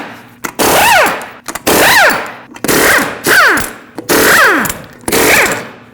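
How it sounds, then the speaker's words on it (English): An impact wrench with a 21mm socket hammers off the lug nuts on the wheel of a 2005-2021 Nissan Frontier 2WD. It fires six loud, close rattling bursts in a steady rhythm, each about half a second long, with short pauses between them. "use a 21mm socket, remove all 6 lug nuts, and then pull the wheel off."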